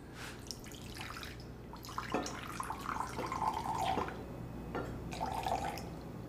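Liquid pouring into a measuring vessel at a cocktail bar, a steady trickling stream with intermittent drips and splashes, close and moderately quiet, with no talk.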